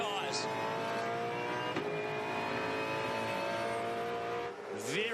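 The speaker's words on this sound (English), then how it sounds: "Just listen how subtle he's being on every single action that he makes on the gear shift" A V8 Supercar racing at Albert Park, with a continuous high engine whine whose pitch climbs and drops through the gear changes, including a quick shift near the middle and a falling swoop toward the end.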